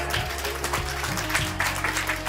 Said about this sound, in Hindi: पुनः इनके लिए जोरदार तालियां एक बार हो जाए